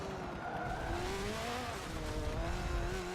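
A race car in an endurance racing video game slides sideways through corners, with tyre squeal and screech over a wavering, revving engine, loud and continuous without talk.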